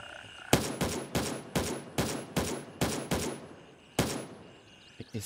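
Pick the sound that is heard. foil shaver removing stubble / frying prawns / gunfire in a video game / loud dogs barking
gunfire in a video game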